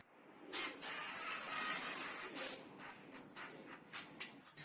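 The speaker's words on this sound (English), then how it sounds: "I'm spraying all the tomatoes with this spray can." Hissing bursts from an oil spray can coating tomatoes, several short and longer sprays in an uneven rhythm, close and fairly quiet.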